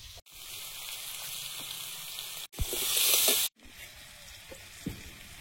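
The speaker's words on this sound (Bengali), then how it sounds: "আজকে সবজি ভাজা হচ্ছে আর মশলা রেডি হচ্ছে" Vegetables fry in a pan with a continuous close sizzle that swells louder for about a second, then settles again, with small clinks from stirring and two abrupt cutoffs.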